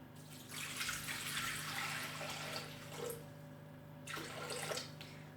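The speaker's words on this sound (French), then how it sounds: "On met 500 d'eau." Water running from a tap into a cooking pot to boil potatoes for beet purée, a steady broadband rush lasting several seconds with a short pause, then a second burst of flow.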